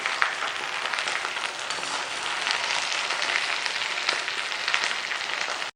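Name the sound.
okra (bhindi) frying in oil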